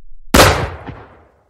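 A single loud gunshot in a cartoon: one sharp bang that hits suddenly and then rings out in a long, fading decay, with no voices.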